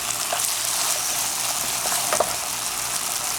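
Beef stir fry with garlic, pimento, sesame oil and oyster sauce sizzles steadily in a hot pan, a continuous loud frying hiss with brief bursts of crackle and stirring, no talking.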